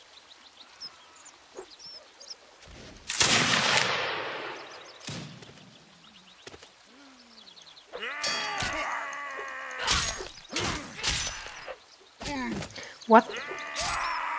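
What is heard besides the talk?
musket gunfire in Mount&Blade Warband Napoleonic Wars video game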